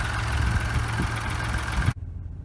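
A 2020 Ford Escape's 1.5 liter EcoBoost turbocharged engine idles with a steady low hum, close and loud, then cuts off abruptly as it is shut down.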